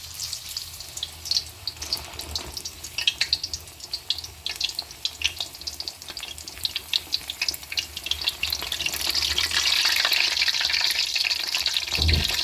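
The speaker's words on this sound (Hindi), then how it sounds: "देखिए ऑयल गर्म हो गया, अब हम इसको इस तरह डाल देते हैं।" A besan-coated naan with potato goes into hot oil and fries, a crackling close sizzle with busy popping that swells into a denser, louder hiss toward the end.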